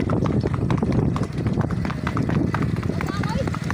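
A Kathiyawari mare gallops with a child rider, her hoofbeats drumming in a quick clip-clop rhythm while excited voices shout and cheer over them.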